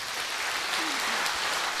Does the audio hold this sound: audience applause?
yes